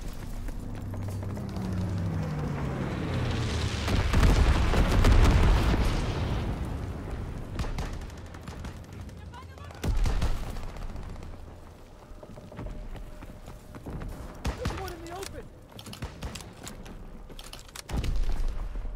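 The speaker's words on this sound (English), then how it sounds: "Bomber inbound. Incendiary mission commenced." In Call of Duty WWII, an incendiary bomber strike sets off a swelling, rumbling explosion followed by several scattered booms and bursts amid ongoing battle noise.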